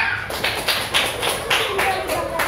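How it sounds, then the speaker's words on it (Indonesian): A classroom group of students claps briefly after their names are called, a short burst of scattered, uneven hand claps close by under a little room noise. "Tepuk tangan untuk kelompok C semuanya"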